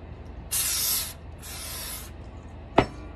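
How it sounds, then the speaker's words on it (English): Two hissing bursts of aerosol gun scrub cleaner are sprayed onto a Glock slide, each about half a second long, followed by a short sharp click of metal near the end. "So I take my gun scrub, and I just spray everywhere,"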